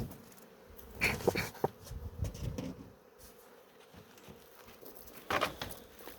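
Honeybees buzz around an opened hive during honey harvest, a faint continuous hum broken by a few louder close fly-bys and light rustling or handling noises.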